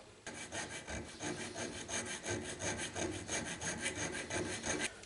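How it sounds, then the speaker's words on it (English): An old, completely worn hand file rasps a burr off a lathe part in steady back-and-forth strokes, close and loud with a continuous scraping rhythm and no talk. "This is a very old file, completely worn, but for this kind of work it's ideal."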